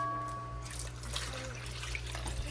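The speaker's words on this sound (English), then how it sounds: "we're going to go ahead and mix in our 375 grams of water" Water, 375 grams of it, pours into sourdough starter for jalapeño cheddar bread, a soft close splashing trickle that runs for a couple of seconds with no voices.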